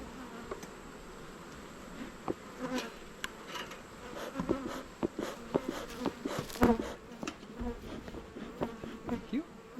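Honeybees swarm around a disturbed hive during beetle-trap work, their buzzing a constant close drone punctuated by individual bees zipping loudly past.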